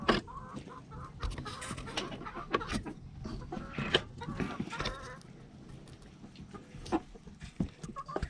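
A flock of about a dozen hens cluck and chatter continuously close by, with overlapping calls and occasional louder squawks.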